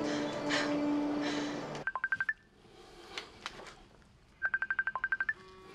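In a film scene, a telephone's electronic tones sound in two short rapid bursts of evenly spaced beeps, clear and close, following a stretch of busy room noise.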